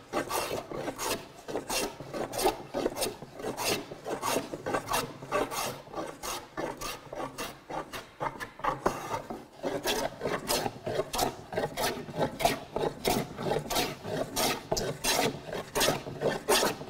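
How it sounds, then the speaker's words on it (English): A hand plane takes long-grain strokes along a twisted wooden board, giving a steady series of rasping shaves, close and clear, each stroke followed by a brief pause. "As soon as I've got some of the twist out, I'll start focusing on long grain planing."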